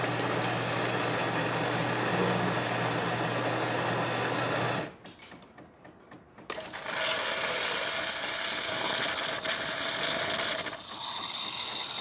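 Jura Giga X7 coffee machine making a cappuccino, a steady mechanical whir that cuts out briefly, then returns as bright hissing, sputtering froth before easing off.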